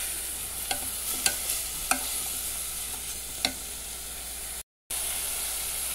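Cod sautéing in a pan for a creamy scrambled cod dish, giving a steady sizzle with a few sharp utensil scrapes and clicks as it is stirred, then a brief dropout before the sizzle resumes.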